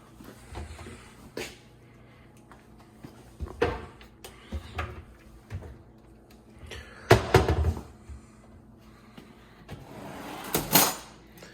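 Several kitchen drawers at a California fire station slide open and bump shut at irregular intervals, with wooden knocks and rattles up close in a quiet room.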